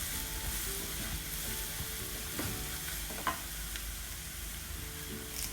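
A ground paste of garlic, chili, coriander and cumin fries with popped mustard seeds and fenugreek in hot oil for tomato rasam. It makes a steady close sizzle with light stirring scrapes and a few crackles.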